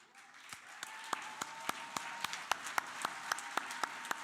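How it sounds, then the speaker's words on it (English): An audience at a graduation ceremony in Johannesburg applauds, a soft, fairly distant wash of clapping with sharper individual claps popping out at a steady rhythm. "give them a nice, loud vote of applause"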